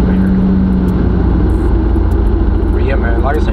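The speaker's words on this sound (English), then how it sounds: "The car rattling a lot, you feel me? You hear a lot of stuff shaking." A daily-driven car pushes through traffic with constant loud road and engine rumble, broadband rattle and shaking noise throughout, and a steady low tone early on.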